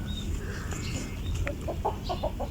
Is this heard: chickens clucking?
yes